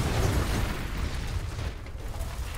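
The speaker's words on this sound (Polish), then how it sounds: "Tam rzucił mi granacik dla zabawy." A heavy, rumbling grenade explosion in the video game F.E.A.R. Perseus Mandate fills the clip with dense low-end noise, loud at first and slowly fading over a few seconds.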